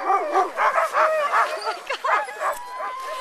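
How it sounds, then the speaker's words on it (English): Several sled dogs yip and whine in quick excited bursts, close by, with a person's voice mixed in among the high-pitched cries. "Paisley, what do you think of all these dogs?"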